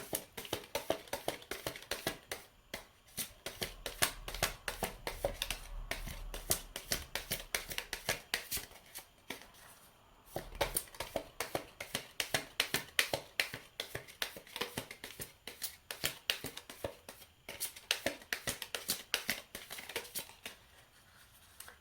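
Tarot cards being shuffled during a card reading, a long run of rapid crisp riffling and tapping in quick bursts with a brief pause near the middle, close and fairly quiet, no talking.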